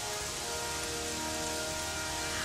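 Steady, dense rain pours on surfaces in the video game Gothic 3, a loud constant hiss with no break or other sounds.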